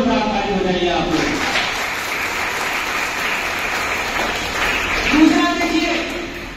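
A crowd at a Phoolan Devi memorial rally breaks into sustained, loud clapping that holds for several seconds and swells slightly near the end.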